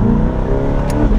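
A Chevrolet Corvette C8 engine revs loudly from inside the car, a sustained, heavy roar that holds steady through the short stretch.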